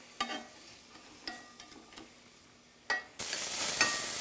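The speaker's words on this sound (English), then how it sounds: "I'm gonna saute these for a good 5 to 6 minutes until it's nice and soft." Garlic and red bell pepper saute in a small soup pot, with a few clinks and scrapes of stirring and then a steady sizzle that rises near the end, close and fairly quiet with no talk.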